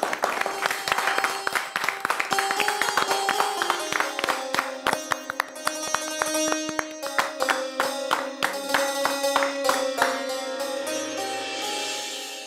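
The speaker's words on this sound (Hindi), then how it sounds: "आप सभी लोग तालियां बजाकर मेरे मित्र की इस मित्रता को सैल्यूट करें।" Several people clap hands together in a celebratory indoor scene, a burst of sharp, fairly close claps with music playing underneath.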